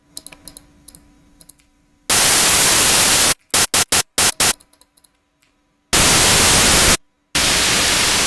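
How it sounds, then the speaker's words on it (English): A bass effect circuit bursts into loud, harsh static that cuts on and off abruptly in long blocks and short stuttering chops, over a quieter clicky hum in between. "It's like glitchy or TV staticky."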